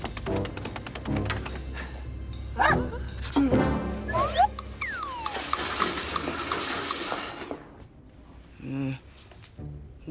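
A puppy barks and yips in short bursts with whimpering, close and lively, mixed with other clatter and brief voices in between.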